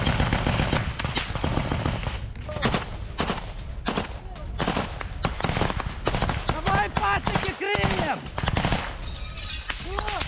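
Battle gunfire from fighting around Klishchiivka and Bakhmut, with repeated bursts of rapid shots and sharp cracks ringing out continuously, some echoing, under a busy wartime mix.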